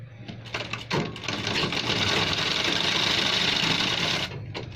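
A sewing machine runs steadily for about three seconds, stitching along the edge of a men's shirt collar, with short bursts and handling noises at the start and end.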